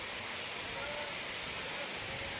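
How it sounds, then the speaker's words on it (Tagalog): A waterfall roars steadily up close as a dense, even rush of falling water that fills the whole short stretch without pause. "Ito yung falls na balaglag."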